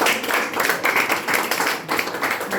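An audience applauds loudly and warmly at a French-speaking gathering, close dense clapping with pulsing swells and individual claps standing out, no voices on top.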